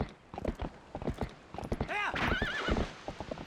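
A horse gallops with rhythmic clip-clopping hooves in Zelda: Twilight Princess on the Wii, and a loud, wavering whinny breaks out midway before the hoofbeats carry on.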